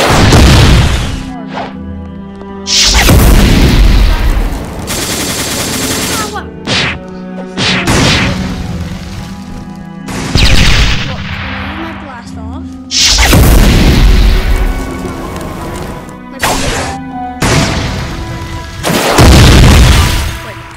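Rocket explosions in a boss fight against Greybeard in a first-sea video game area, a series of loud, booming blasts in irregular bursts, each with a long rumbling tail, while a voice talks over them.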